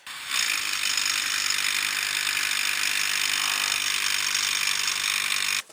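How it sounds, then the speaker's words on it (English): A 1400 watt demolition hammer breaks sandstone into sand inside a hand-dug tunnel, a loud, close, unbroken buzzing hammer drone that starts abruptly and stops just as suddenly after about five seconds. "This is one of the tools we use to smash out the sand, and this is a 1400 watt demolition hammer."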